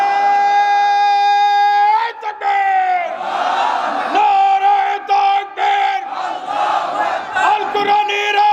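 A large crowd at a Bangladeshi Islamic sermon gathering roars a takbir response, chanting Allahu Akbar in loud, sustained unison shouts that swell and repeat several times.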